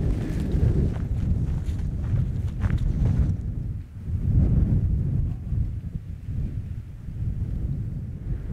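Strong wind on an open fell top in Urho Kekkonen National Park, steady rumbling buffeting against the microphone that swells and eases for several seconds.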